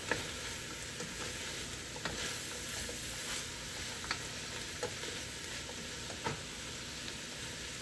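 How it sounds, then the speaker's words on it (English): Chopped carrots with peels left on and celery sautéing in a pan for a shellfish bisque, a steady soft sizzle with occasional stirring clicks and scrapes, close and alone without talk. "And we'll saute this for another few minutes."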